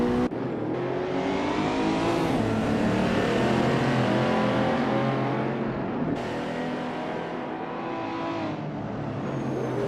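Several race car engines roar and rev together throughout a video game race, a dense, loud, steady engine drone with shifting pitch as cars jostle and pass.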